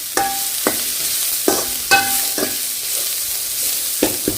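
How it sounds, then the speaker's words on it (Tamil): Vegetables sauté in a hot pan for egg rice with a steady, loud sizzle throughout, broken by regular scrapes and clanks of a spatula stirring close by. "சரி கொஞ்சம் நேரம் வதங்கட்டும்"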